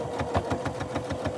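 A sewing machine stitches a petticoat, its needle thumping in a fast, even rhythm of about six strokes per second over a steady motor hum, close and moderately loud.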